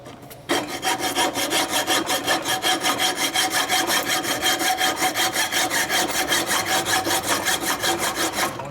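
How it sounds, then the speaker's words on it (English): A hacksaw cuts through the cam cover of a 1971-76 Harley-Davidson XL Sportster Ironhead, with steady rhythmic back-and-forth strokes, close and loud, continuing throughout with no talking. "if you had a sharp hacksaw, this would work better"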